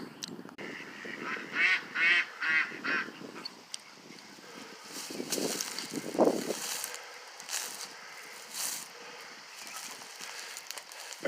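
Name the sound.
Canada geese and ducks honking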